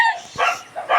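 A small dog barks in short, sharp yaps, three quick barks close by in about a second, loud and high-pitched with no talk over them.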